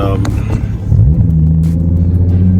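An Audi S5 drives along with a steady low engine rumble and road noise, the engine note rising slightly as it accelerates, heard from inside.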